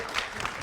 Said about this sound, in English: let's give a round of applause for the daddies.